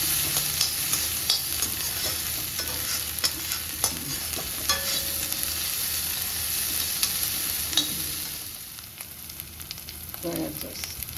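Green chillies frying in a pan for chicken fried rice, a continuous sizzle with scattered clicks and scraping as they are stirred, easing off toward the end, with no talking.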